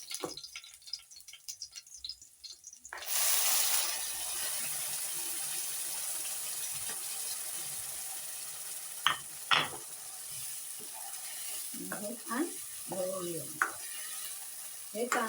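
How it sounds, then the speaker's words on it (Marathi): Ground coconut masala paste hits a pan of fried onions with a sudden loud sizzle that carries on as a steady frying hiss, with scraping stirs and a few brief bits of talk later on. "कांदा चांगला फ्राय झालेला आहे आता मी हे वाटण टाकणार आहे"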